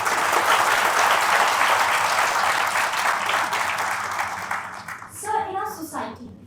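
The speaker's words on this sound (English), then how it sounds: "Can we have a huge round of applause?" A loud, dense round of audience applause at a leadership talk fills most of the stretch, then tapers off as a voice begins speaking near the end.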